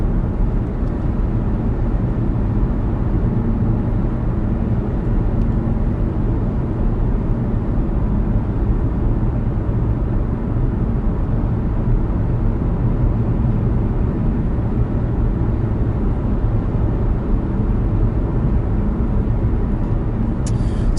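Steady wind and road noise inside a 2019 Nissan Kicks cruising at 60 mph on the highway, a dense, even low rumble and rush filling the whole stretch without letup, no talking.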